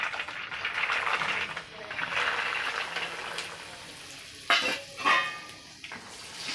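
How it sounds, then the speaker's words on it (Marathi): Peanuts frying in hot oil, a broad, steady sizzle with a couple of sharp pan and utensil clatters near the end, with a voice speaking over the frying. "सर्वात पहिले मी शेंगदाणे तळून घेते अगदी हळूच टाकूया"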